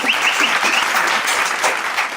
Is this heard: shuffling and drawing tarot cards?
no